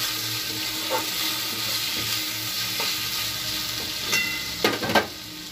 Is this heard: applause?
no